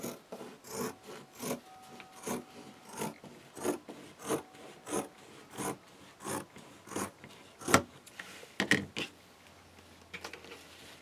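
Canvas tote bag edge being trimmed, a regular run of rasping, rubbing cuts repeating about once a second, close and clear, with no talk.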